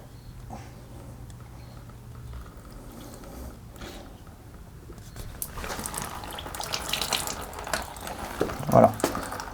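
Coolant from a Kawasaki ER6N motorcycle hose begins to flow after a pinch is released, a faint trickle growing into a steadier splashing run of liquid with a few louder drips near the end.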